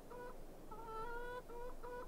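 Hens cluck in the farming game Farming Simulator 22 with several short, repeated clucks close up. No one talks over them.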